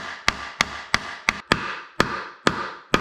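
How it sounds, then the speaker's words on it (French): A hammer drives nuts into a kayak motor mounting plate. Eight sharp, evenly spaced knocks ring out close and loud, each one fading quickly into a quiet room. "donc je mets ça, je vais les enfoncer avec un marteau."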